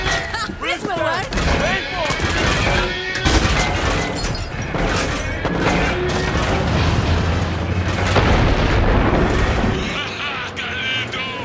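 Tank cannon fire and explosions in the video game Far Cry 6, dense, loud booms and crashes layered with game music and effects, while voices talk over the continuous action.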